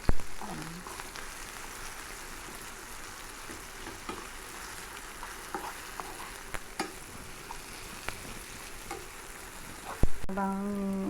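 Shrimp paste (bagoong alamang) with plenty of onion frying in a pan, a steady close sizzle with scattered scraping stir clicks throughout, and a brief voice near the end.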